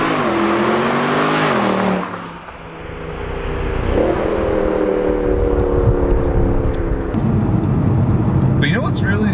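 A 2011 Mercedes C63 AMG with a torque converter automatic cruising at low revs around 2,000 RPM, a steady low engine drone with a shift dip, heard from inside the cabin while people talk over it.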